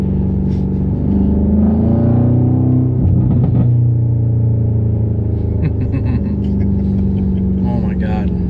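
A 2018 BMW M5 pulls in third gear, its deep engine rumble building in a steady, loud drone with a brief burst of harsher noise midway, while people talk over it near the end.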